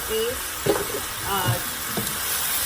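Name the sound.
stir-frying vegetables with seasoning for crispy noodles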